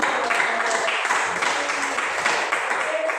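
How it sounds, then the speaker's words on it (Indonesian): Applause rises from a classroom audience during a school practical exam session, a steady wash of many hands clapping at even loudness for about three seconds, with faint voices mixed in. "Tepuk tangan dulu."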